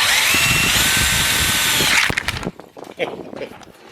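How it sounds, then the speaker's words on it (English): A cordless power drill bores a hole through material, its loud steady whine running for about two seconds before cutting off abruptly, followed by quieter clattering and handling noises. "with one hole drilled and taken out the material, that's what we have"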